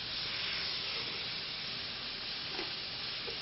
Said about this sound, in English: I have it on medium-high because I like a nice high heat when I'm sauteing